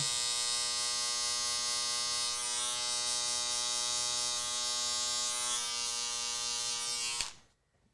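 A hair clipper blending a low taper fade buzzes steadily and close with a strong harmonic hum, cutting off abruptly near the end, with no talk.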